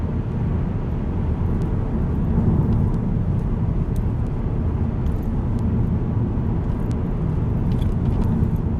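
Steady road and engine drone inside a Mark 7 Volkswagen Golf R three-door with a seven-speed DSG gearbox cruising at about 75 mph, a constant low rumble with faint occasional rattles and no talking.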